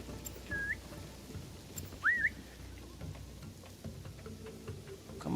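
A game character in Assassin's Creed Shadows whistles to lure an enemy, heard as two short rising whistles, the second louder and more distinct, over a soft pattering background of rain-like ambience.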